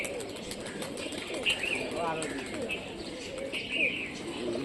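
A Rajshahi Giribaz pigeon flutters its wings as it comes in to land, giving brief soft flaps and a coo against steady outdoor background noise, with people talking nearby.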